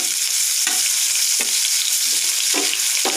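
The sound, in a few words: onion and garlic frying with cumin seeds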